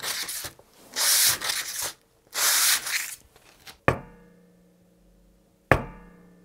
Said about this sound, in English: Grab any sandpaper, the numbers don't mean anything. Just lay it flat on your hand and scratch your guitar